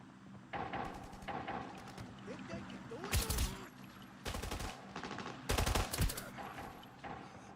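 Pistol shots in the tactical shooter Arena Breakout, several sharp broadband cracks in quick pairs over a busy game backdrop, with scattered smaller impacts and faint voices.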